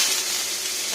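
Raw young pumpkin pieces hit a hot pan for a vegetarian dish, giving a steady broadband sizzle that holds evenly through the second, close and fairly loud, with no talk.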